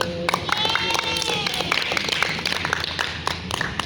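A group of scouting students doing a counted clapping ice-breaker game, crisp sharp hand claps in quick rhythmic bursts and patterns, close and loud, with voices calling out between claps.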